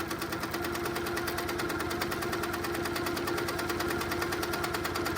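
Domestic sewing machine stitching stippling through quilt patches, a steady fast mechanical whir with rapid rhythmic needle clatter running continuously and close up, no voices.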